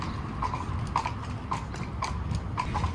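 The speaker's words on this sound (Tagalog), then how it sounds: "nagmamadali na yung kabayo guys" Horse hooves clip-clop in a steady, brisk rhythm on the cobbled streets of Salzburg's historic town as the horse pulls a carriage, the hoofbeats close and clear with faint road noise and no talking.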